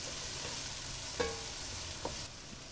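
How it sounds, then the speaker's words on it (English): A steady, low crackling sizzle of onions, ginger and garlic frying in a pot, with a couple of soft clinks from stirring. "The onions are frying nicely now, along with the ginger and garlic"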